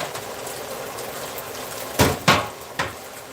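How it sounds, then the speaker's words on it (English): Dry pasta dropped into a pot of boiling water for a tofu-based holiday meal, giving three quick splashy bursts close by over a steady low bubbling background. "Into the boiling water."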